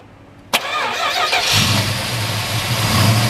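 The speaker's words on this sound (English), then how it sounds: "So we're gonna go ahead and start her up." A sharp click, then a 1969 Plymouth Barracuda engine cranks and catches around a second later, settling into a loud, rough, steady idle close by.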